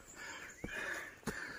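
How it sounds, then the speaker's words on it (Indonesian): Heavy, ragged panting from someone hiking up a forested mountain. The breathing is close and continuous, with two sharper gasping breaths about half a second apart. "Sorry kalau ngevlognya sambil ngos-ngosan, soalnya sambil mendaki gunung di tengah hutan."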